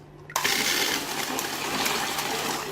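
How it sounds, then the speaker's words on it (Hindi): A burst of pressurized water rushes into a car wash foam gun fed by a diaphragm self-priming pump. The broad loud gush starts suddenly after a brief quiet moment, then holds steady and close, with no voices. "तेज़ी से प्रेशर पानी आ गया इसके अंदर"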